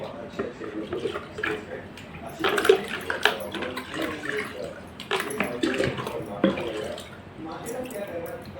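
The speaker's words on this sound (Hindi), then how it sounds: "तो आपको मैं दिखाती हूँ पानी में डुबो के" A freshly cleaned metal cooking utensil is dipped and swished in water, giving irregular splashes and drips, close and moderately loud, with sloshing bursts throughout.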